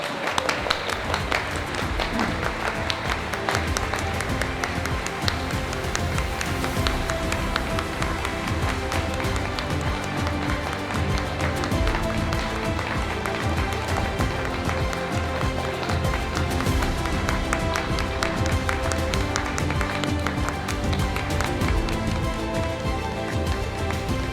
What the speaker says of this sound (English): So please can you give a round of applause to the representatives from the Flintshire Coastal Path Accessibility Group as they come up on stage.